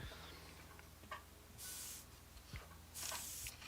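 An airbrush loaded with purified water gives two short bursts of hissing air over a faint background hum, with quiet ticks and handling noises in between.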